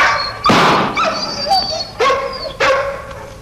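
A dog barks sharply three or four times in close, loud bursts, with whining tones between the barks, in a 1974 Georgian feature film scene.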